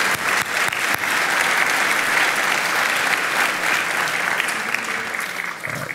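An audience at an economic outlook event claps steadily, a dense, loud burst of applause that carries on throughout and begins to thin near the end.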